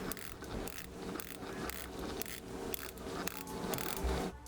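A new Seiko diver watch's 120-click ceramic bezel is turned, giving a close, quiet run of rapid ratcheting clicks in steady bursts for several seconds, with no talk.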